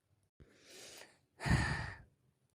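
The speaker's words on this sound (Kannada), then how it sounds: "ಜೋರಾಗಿ ಉಸಿರು ತೊಗೊಳ್ರಿ ಹಾಂ ಹಂಗೆ ಉಸಿರು ಬಿಡ್ರಿ" At a doctor's checkup, a person takes two deep breaths, a soft inhale followed by a louder, longer exhale, close and otherwise quiet.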